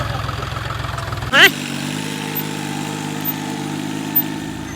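A tractor engine idles with a steady low throbbing rumble, close and continuous, with a sharp knock or clank near the start and a few faint brief clicks later.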